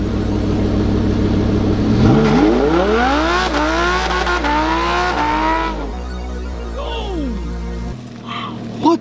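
A Lamborghini Huracan drifts nearby, its engine revving hard and rising in pitch while tires squeal in long sweeping skids, then it fades as it pulls away.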